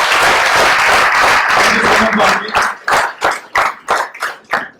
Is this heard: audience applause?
yes